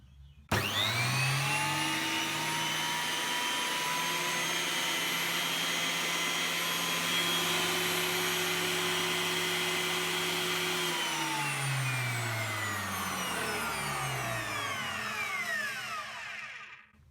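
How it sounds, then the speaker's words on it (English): A Hafco T-13S thicknesser, straight out of the box, runs up to speed with a steady loud motor whine and hum, then winds down at the end; no talking. "So we might switch it on and give it a run."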